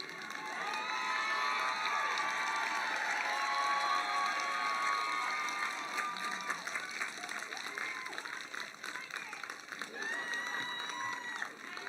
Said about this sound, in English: Would the faculty please take this moment to applaud the newest graduates of Mills College?